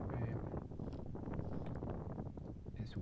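Wind buffets a microphone on an exposed golf course, making a steady, loud, low rumble that fills the whole stretch without a break.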